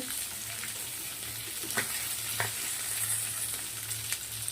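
Katla fish shallow-frying on a tava gives a continuous close, even sizzle, with a few faint scrapes of a spatula against the pan and no voices.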